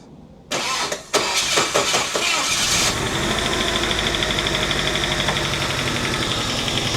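A Saab 900 Turbo under restoration cranks with a few sputtering catches, then fires up and settles into a steady, loud, rough running drone close by, with no talking.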